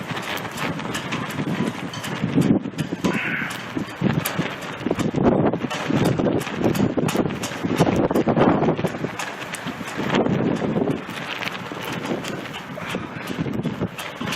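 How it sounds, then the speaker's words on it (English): Strong winter storm wind during a polar vortex blasts across the microphone in loud, buffeting gusts that rise and fall continuously for the whole stretch, with no one speaking. "See how hard that wind's blowing?"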